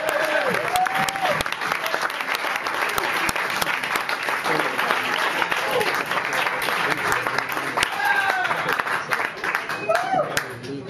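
A live audience applauds a jazz-rock band, loud sustained clapping filling the hall, with a few voices and whistles rising through it.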